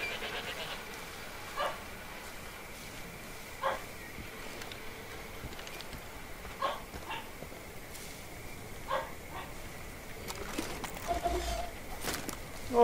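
A dog barks at a distance in the video game Far Cry 5, single faint barks repeating every couple of seconds over a low outdoor ambience, with a few muffled noises near the end.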